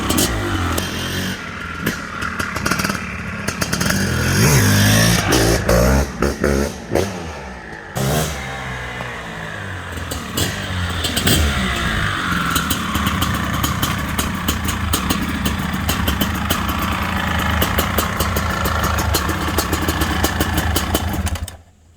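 A 2023 Maico 700 two-stroke enduro motorcycle rips past close by, its loud crackling engine revving hard and bogging between gear changes, staying near and prominent throughout without any voices.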